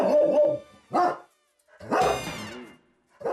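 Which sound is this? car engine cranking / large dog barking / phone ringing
large dog barking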